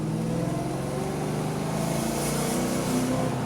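A 1993 Ford Mustang cruising in ordinary driving as it shifts up through third, fourth and fifth gears, with a steady engine drone and road noise inside the car and pitch changes at each gear change.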